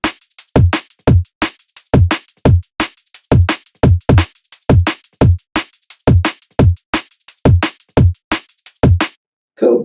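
Processed kick drum for breakbeat music production, repeating in a steady fast rhythm of punchy, loud, close hits with deep low end, running alone for about nine seconds before a brief stray sound at the end.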